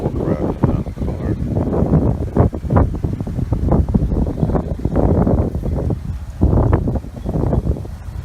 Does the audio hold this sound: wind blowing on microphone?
yes